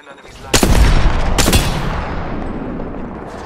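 Loud bursts of gunfire in the Apex Legends video game, two sharp volleys close together followed by a decaying rumble.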